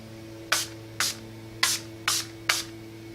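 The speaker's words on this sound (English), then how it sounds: "we got a little crazy with the all-nighter spray" Urban Decay All Nighter setting spray misted in five short, crisp hissing bursts at a steady pace about half a second apart, close up, over a faint constant background hum.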